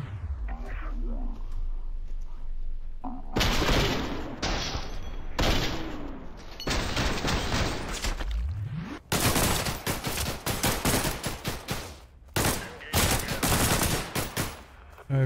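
Rapid gunfire and repeated shots in the PC shooter Entropic Delay, loud bursts and volleys filling most of the stretch, with a player talking over them.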